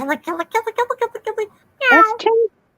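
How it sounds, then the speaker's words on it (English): A house cat meows in a rapid series of short, close calls, then after a brief pause gives two longer, drawn-out meows, with speech-like chatter mixed in. "That's a putty cat."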